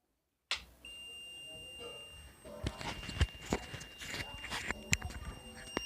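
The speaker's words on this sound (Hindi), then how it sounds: "देखो शायद आप बजर की आवाज़ आ रही है।" A multimeter set to buzzer continuity mode gives a steady high-pitched tone while the sockets of an old household light switchboard are tested, with scattered clicks and handling knocks from the probes.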